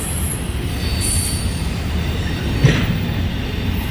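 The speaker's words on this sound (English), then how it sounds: "The reason you're seeing this train still go by, 203 is massive today." Loud rumble of a long 153-car freight train rolling past nearby, with high metallic wheel squeals and rail clatter over a steady roar.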